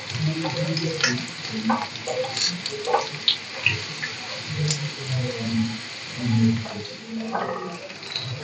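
Chinese rolls fry in hot oil with an even, bubbling sizzle, broken by scrapes and clinks of stirring and turning, fairly close. A voice speaks faintly in the background.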